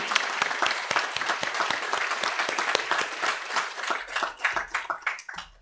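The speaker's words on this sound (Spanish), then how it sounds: "Un aplauso, por favor, para él." A crowd applauds steadily with dense clapping that thins into scattered claps near the end.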